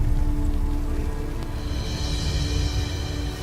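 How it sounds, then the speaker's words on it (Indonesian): Rain falling at night outdoors, a steady dense hiss of drops that fills the background and gets brighter partway through, with no voices. "Malam-malam begini hujan."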